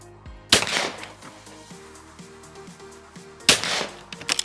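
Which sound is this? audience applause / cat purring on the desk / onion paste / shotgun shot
shotgun shot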